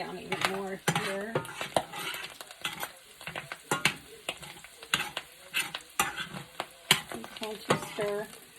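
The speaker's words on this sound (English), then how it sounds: "And to stir the mushrooms." Mushrooms are stirred with a spoon in butter sauce in a pan, with a steady run of scraping and clinking strokes over a soft background sizzle, close and fairly loud, with no talking.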